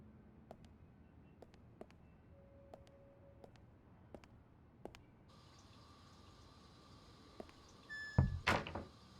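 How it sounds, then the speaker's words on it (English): Knocking on a door inside the horror video game Unheard: a string of sharp, sparse taps spaced out over several seconds, faint against a quiet ambient room tone, ending with a louder burst of activity. "Who's that knocking?"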